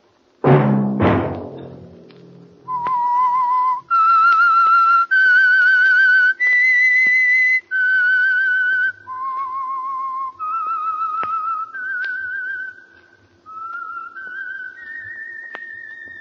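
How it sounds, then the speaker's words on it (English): The theme tune of the old-time radio program The Whistler is whistled clearly, a short run of sustained notes rising and falling, heard alone after a brief sharp opening sound. "Let that whistle be your signal for the Signal Oil program"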